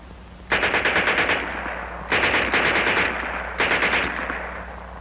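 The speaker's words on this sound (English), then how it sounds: "And here's their Schmeiser." German Schmeisser submachine gun from 1945 firing three sustained automatic bursts, each a rapid rattling string of shots lasting about a second, loud and close with short pauses between.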